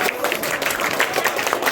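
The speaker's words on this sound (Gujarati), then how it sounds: "તાળી મારવા માંડ્યા છે કેક કપાઈ ગઈ એટલે" Clapping from a small group celebrating a birthday cake being cut at a home party, a steady dense patter of hands throughout, fairly close, with some voices mixed in.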